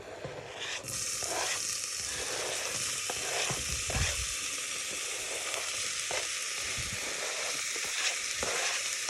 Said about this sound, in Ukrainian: В цю кастрюльку з маслом я всипаю цибулю.